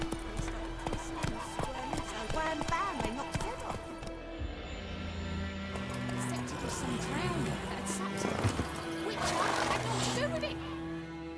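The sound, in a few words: horse Roach whinnying and trotting, from video game The Witcher 3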